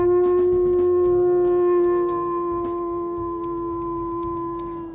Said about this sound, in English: He has a very deep howl there